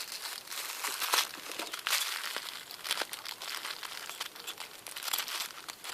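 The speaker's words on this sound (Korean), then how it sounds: "비닐 뜯끼면안 되는데." Crinkly plastic packaging rustles and crackles in irregular bursts close up, a steady busy crumpling with occasional sharper tearing snaps, no talk.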